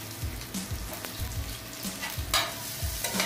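Garlic sizzles in a hot pan while beef broccoli is being cooked, a steady close-up frying hiss with repeated stirring scrapes and a brief sharper crackle partway through.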